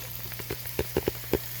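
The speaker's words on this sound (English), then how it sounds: "those peppers that I had from the other week, I put those on the bottom and I'm frying them up" Peppers and hamburger fry in a pan with faint, scattered sizzling pops over a steady low hum, the crackles coming irregularly and quietly.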